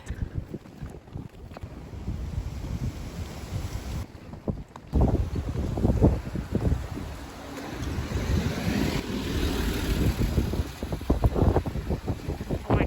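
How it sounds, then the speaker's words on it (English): Strong, freezing winter gusts of wind in Japan buffet the microphone in rough, uneven bursts, rumbling loudly with a faint outdoor background behind them. "it's freezing and it's so windy"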